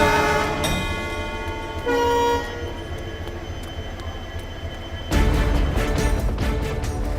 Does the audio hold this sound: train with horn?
yes